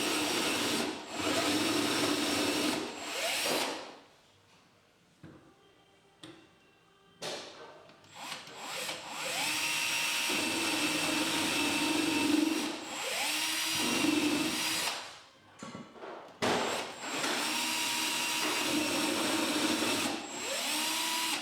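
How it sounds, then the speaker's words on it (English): An electric drill bores through a wooden base cabinet end panel from the inside during kitchen installation, in several loud whirring bursts separated by short pauses, fairly close, with no talking. "Now you can carefully drill through from the inside."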